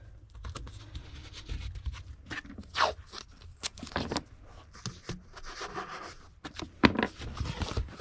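Packing tape is pulled, torn and pressed down to hold books in place inside a Gemini shipping mailer, giving close, irregular crackling rips, scratches and taps with brief quiet gaps between them.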